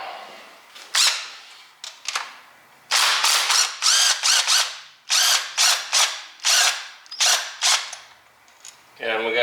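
A ratchet backs out carburetor studs on a 5.3 engine, sounding as a run of loud, close clicking bursts in quick repeated strokes with short pauses between them, with no talking.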